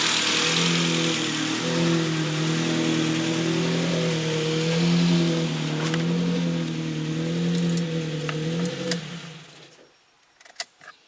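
A Ford Focus RS engine idles steadily up close with a wavering, slightly surging note, then cuts off near the end, leaving a few faint clicks and taps.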